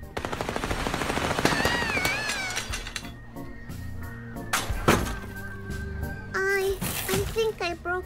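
Gunfire with real bullets in the video game Little Misfortune, sharp bursts over a busy game soundtrack with a voice and cat-like sounds, a few loud shots standing out near the middle.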